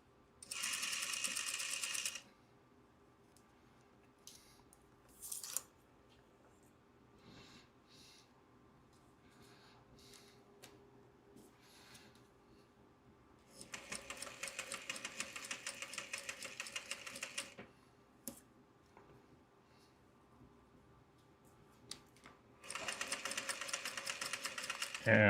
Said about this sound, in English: Trying not to sew over my pins.